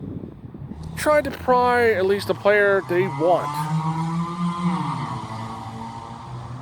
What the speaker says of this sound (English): That's just a motorbike going by.